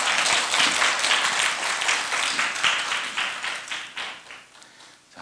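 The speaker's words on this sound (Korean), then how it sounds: "박수 안 치십니까?" An audience claps at a university lecture on humans and food, with brisk applause starting loud and fading out over a few seconds.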